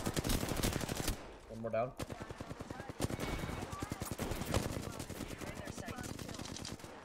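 Rapid automatic gunfire from an Apex Legends match rattles in dense bursts nearly throughout, with a short pause near the start, while a player talks briefly over the shooting.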